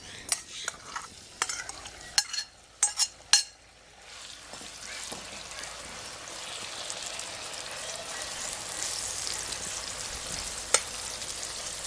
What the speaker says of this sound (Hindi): आग को थोड़ा हम कम करते हैं और कलीजी को डालते हैं